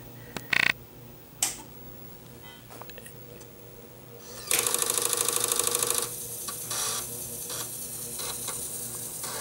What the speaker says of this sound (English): I just want to see if the printer at least is going to work